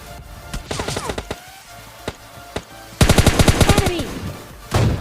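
Bursts of automatic gunfire from PUBG Mobile Lite in a squad match, a few scattered shots early on, then a loud rapid volley near the end, with no talk.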